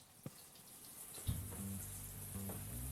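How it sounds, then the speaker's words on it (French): Running water from a shower spraying steadily as a hiss, with a few clunks and knocks and a low rumbling tonal hum joining partway through. "je prends une douche et je vous explique"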